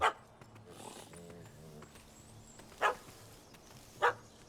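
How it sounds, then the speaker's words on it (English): A dog in The Witcher 3: Hearts of Stone gives three short, loud barks spread across the moment, with a quieter stretch of game-character speech in between. "That gammy puss ran up a tree to escape that puppy."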